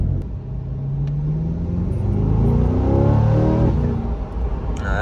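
A Corvette C8 in track mode accelerates on a road leaving the city, its engine note climbing steadily in pitch and loudness, heard close and continuous with no talking.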